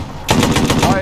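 A .50 cal machine gun in the ArmA 3 video game fires a rapid, loud burst of about a dozen close shots.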